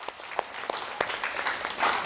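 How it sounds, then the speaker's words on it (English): Audience applause at a Students of Promise Summer Bridge program completion, a brief, fairly faint patter of clapping with a few sharper claps standing out. "Clap it up, clap it up."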